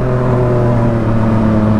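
Yamaha MT-09 motorcycle fitted with a Jeskap exhaust, brand new, revving with a loud, steady engine drone and strong low harmonics held close to the microphone throughout.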